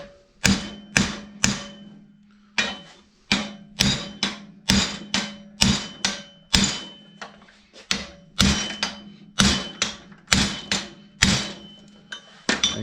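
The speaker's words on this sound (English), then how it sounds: "while I'm beating this side is pulled back out." Steel exhaust pipe for a twin-turbo Ford F100 being beaten with a hammer: loud, sharp metallic strikes in a steady, slightly irregular rhythm, each with a short ringing decay, close up.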